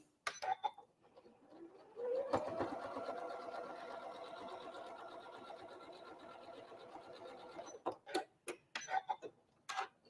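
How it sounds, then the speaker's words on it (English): A sewing machine stitches a Christmas Star quilt block in one steady, continuous whirring run of about six seconds, close by, bracketed by a few sharp clicks and taps before and after. "Don't sew over the pin."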